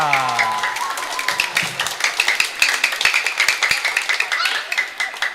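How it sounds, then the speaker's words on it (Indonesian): Children clapping hands together at a Christmas children's church service, a dense run of sharp claps that grows steadier, with a voice speaking at the start. "Yuk kita kasih tepuk tangan untuk teman-teman kita."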